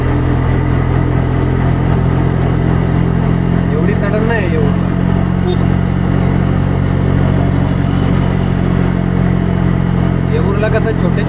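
An auto rickshaw engine labours up a long, continuous ghat road climb on a trip to the Ekvira temple, a loud, steady drone that runs unbroken throughout with rushing road and wind noise.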